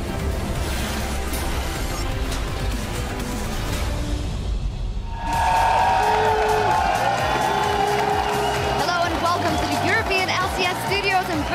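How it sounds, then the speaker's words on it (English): A studio crowd at a 2015 EU LCS Summer esports event in Berlin roars into loud, sustained cheering and whooping halfway through, a dense wall of voices mixed with an announcer talking over it. "The crowd is hyped and ready to go for our big matches today."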